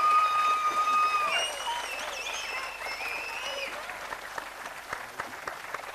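Audience clapping at the Aviratha Sri Krishna Sandhana cultural event, a dense burst of applause that starts loud and steady, then thins to scattered claps as it fades over about six seconds.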